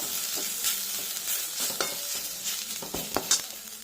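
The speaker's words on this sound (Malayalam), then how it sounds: "എല്ലാം കൂടെ നന്നായി ഇളക്കി ഒന്ന് വഴറ്റിയെടുക്കാം" Spices for chickpea curry sautéing in a pan, a close, bright sizzle with scraping stir strokes and occasional spoon knocks.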